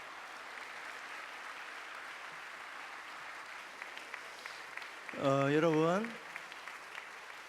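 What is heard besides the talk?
congregation applauding choir members' entrance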